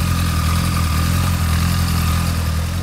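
A Honda Hornet motorcycle engine idles steadily, a loud, continuous low rumble with no revving.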